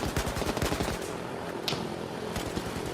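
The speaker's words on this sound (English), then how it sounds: "the sporadic gunfire echoed in the distance" Bursts of gunfire crackle in rapid, uneven volleys, dense at first and then thinning to scattered single shots, heard against a steady wash of background noise.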